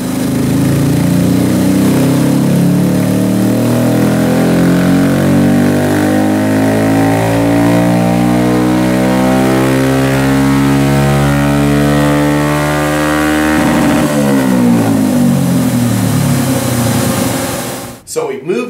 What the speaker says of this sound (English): we're going to throw it up on the dyno and see what kind of power we made